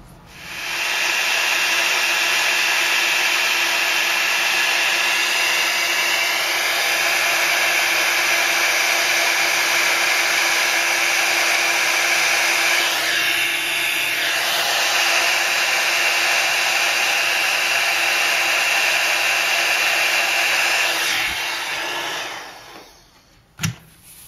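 A heat embossing tool blows hot air over gold embossing powder on a Christmas tree die cut, a steady loud whooshing roar lasting about twenty seconds before clicking off.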